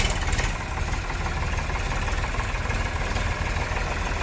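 Tractors idle and rumble steadily nearby, loading sugarcane juice (raskas) at Lakhapir Ashram in Mandvi, a continuous mid-to-low engine drone with no break and no voices.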